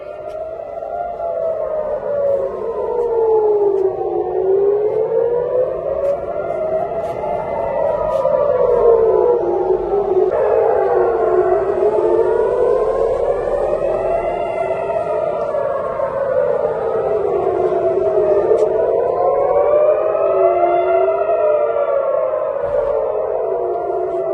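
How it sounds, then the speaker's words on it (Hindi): Air raid sirens in Tel Aviv wail continuously during an Iranian missile attack, rising and falling in long overlapping cycles, loud and sustained with no talking. "लगातार सायरन्स बज रही है।"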